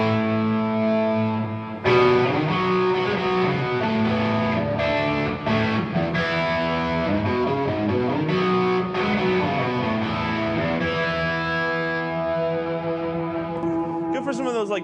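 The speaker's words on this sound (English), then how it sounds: "what I can best describe it as a controllable tube screamer" Electric guitar through an overdrive pedal similar to a Tube Screamer, with a warm overdriven tone, plays a continuous stream of chords and notes, steady and fairly loud throughout.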